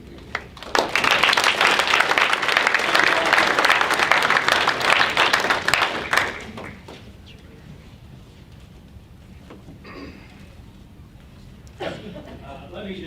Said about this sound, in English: So if you give these 2 kids a round of applause.